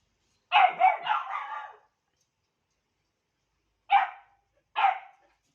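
A dog barks in a quick burst of three or four yips, then falls silent and gives two more sharp single barks, close and clear.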